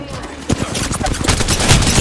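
Loud, rapid gunfire erupts in an Apex Legends Arenas match, with dense overlapping bursts and shots filling the whole moment up close.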